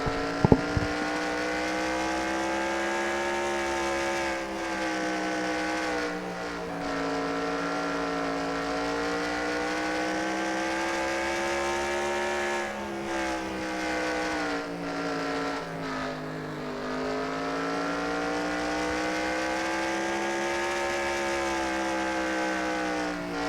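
Sprint race cars lap the Knoxville dirt track during preseason testing: a loud, continuous multi-engine roar whose pitch rises and falls as the cars accelerate and back off through the turns, with no talking.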